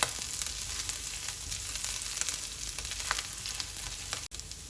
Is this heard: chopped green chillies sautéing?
yes